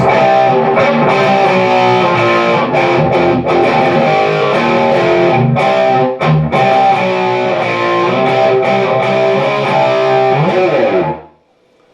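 An electric guitar plays the verse of a song through distortion and effects, a dense, loud, continuous sound lasting about eleven seconds before it cuts off abruptly to silence.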